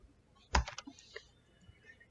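A terminal command is typed on a computer keyboard: a short burst of quick, close key clicks, one sharp press followed by several lighter taps, then a few sparse clicks in a quiet room.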